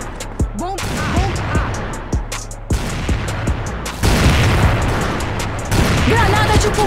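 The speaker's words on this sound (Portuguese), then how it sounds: "Granada de fumaça!" A smoke grenade going off in a first-person shooter video game, heard amid sharp bursts of gunfire and booms, with a louder hissing blast partway through; someone talks excitedly over the game sounds.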